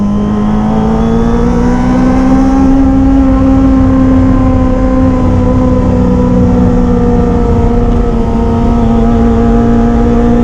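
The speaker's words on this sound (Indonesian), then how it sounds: "kali ini gua pakai knalpot Leovin LP10 ya" A Kawasaki ZX25R motorcycle with a Leovin LP10 aftermarket exhaust holds a constant, throaty rev for the whole stretch, loud and close, with a slight rise in pitch early on and no talking.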